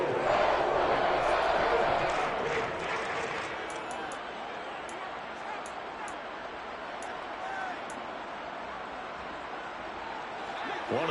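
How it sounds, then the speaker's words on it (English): A football stadium crowd roars steadily before a big third down, a dense wash of distant cheering and yelling that holds for the whole stretch and swells slightly at the start. "The crowd getting into it as we come up on a big 3rd down"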